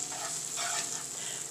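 Butter sizzling in a skillet while cooking a chicken quesadilla, a steady close hiss and crackle that continues without pause and with no voices.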